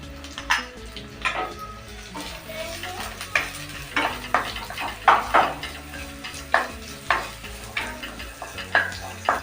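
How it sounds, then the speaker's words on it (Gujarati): Capsicum and onion sautéing in a kadai over a full flame, close sizzling under a run of regular sharp stirring scrapes and clinks of the spoon against the pan. "ગેસની ફ્લેમ ફૂલ રાખીને કેપ્સિકમ અને ડુંગળીને સાતડી લેવાના છે"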